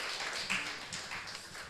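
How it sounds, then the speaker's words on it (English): Audience applause at a university research symposium: a short burst of dense, even clapping at moderate volume, heard on its own with no speech. "So let's again give her a hand of applause"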